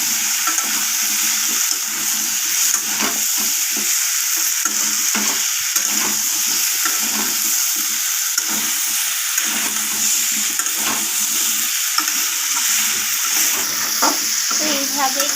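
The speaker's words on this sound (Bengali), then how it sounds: "নাড়াচাড়া করে আমি মশলাগুলোকে মিশিয়ে নিচ্ছি এইভাবে" Spices such as red chilli powder and cumin powder being stirred into potatoes and capsicum frying in a pan, a continuous sizzle with repeated scraping strokes of a spoon, close and loud, with no talking.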